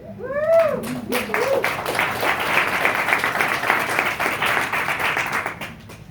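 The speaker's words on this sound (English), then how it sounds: "We'll keep clapping until you get up there" An audience claps steadily at an event as a speaker is called to the stage, with a few high whoops and voices at the start, then sustained dense applause that tapers off at the end.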